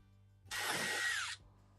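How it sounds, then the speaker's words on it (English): Power drill boring all the way through a piece of wood, one loud continuous burst of about a second that starts and stops abruptly against a quiet background. "I'm going to drill this all the way through."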